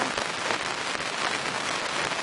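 Heavy April rain at Tyram Hall fishery pours down as a dense, steady hiss of drops on surfaces, loud and unbroken throughout, with no talking.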